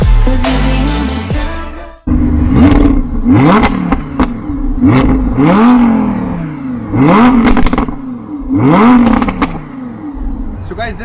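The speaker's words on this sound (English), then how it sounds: "You have heard sound of the exhaust, so you have a clear idea right now that you know what kind of power this car produces." A Rosso Mars Lamborghini with a dual-clutch gearbox and all-wheel drive revs hard in Dubai. Its loud exhaust rises and falls in about six sharp, repeated blips, close and with no talk over it.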